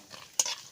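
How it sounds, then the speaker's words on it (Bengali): Nuts fry in ghee in a wok and a utensil scrapes through them once, a single short stirring rasp over a faint sizzle, close and brief. "বাদাম ভাজার জন্য প্রথমে কড়াইয়ে ঘি দিয়ে দেবো"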